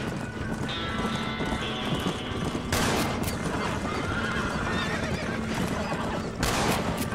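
A horse in the Red Dead Redemption video game on PS3 whinnies loudly over a steady clip-clop of hooves, with a couple of sharp, gunshot-like bursts breaking through the game soundscape.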